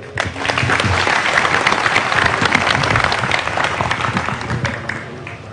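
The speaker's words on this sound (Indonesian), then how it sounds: "tepuk tangan untuk beliau" An audience at a Maiyah community religious lecture gives a round of applause, many people clapping steadily and fairly loudly for about five seconds before it tapers off.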